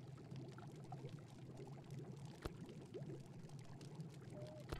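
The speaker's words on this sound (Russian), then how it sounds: "Так, набрать воду." Faint, steady trickle of water being collected into a jar in the video game Black Rainbow, with a low hum and a single soft knock beneath.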